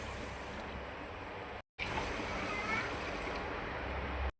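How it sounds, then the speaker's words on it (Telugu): Water is poured onto sugar to make syrup, a quiet steady pouring hiss that briefly cuts out and then resumes. "ఆ షుగర్కి 2 గ్లాసెస్ వాటర్ పోసుకుందాం."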